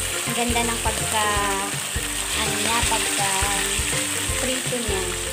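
Steady crackling sizzle of tilapia frying in hot oil, close and constant with small pops and bubbling.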